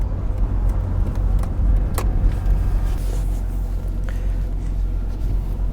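Cabin ambience inside a 1989 Jaguar XJS V12 convertible with the roof up: a low, steady road rumble and engine hum, with a few small clicks and knocks from the interior.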